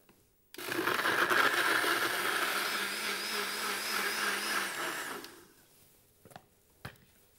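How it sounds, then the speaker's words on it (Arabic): A blender mixes a lemon and mint drink, whirring loudly and steadily for several seconds, then cuts off, followed by a couple of faint clinks and knocks. "وأضيف المي كل هالمكونات سوا في إبريق الخلاط وشغل لغاية ما يختلط"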